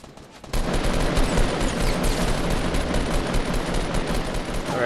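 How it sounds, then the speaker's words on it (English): Dense automatic gunfire from a Fortnite battle royale match erupts after a brief quiet start, a continuous rattling barrage of shots with faint game sounds underneath. "I'm getting shot"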